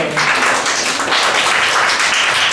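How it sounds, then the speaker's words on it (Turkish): Schoolchildren in a classroom in Siirt applauding a classmate on report-card day, a loud, close burst of many small hands clapping steadily for a couple of seconds. "Seni alkışlarla alalım."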